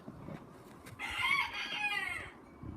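A rooster, one that tolerates only its own breed of chicken, lets out a single loud, close crow with a rising then sustained call lasting over a second, set against faint yard background.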